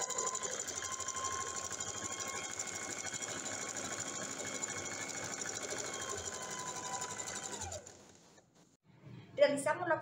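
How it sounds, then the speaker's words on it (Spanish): An overlock machine stitches the side seams of a dress in a continuous fast mechanical whir for about eight seconds, then stops, followed by brief handling noises and a voice. "pasamos costura con overlock en ambos laterales"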